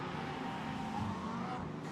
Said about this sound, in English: Number 10 Aston Martin being pushed very hard there